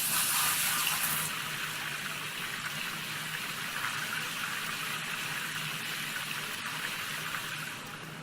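Water is emptied out of a container in Gold Rush: The Game, a continuous rushing gush that is strongest in the first second and then pours steadily on its own.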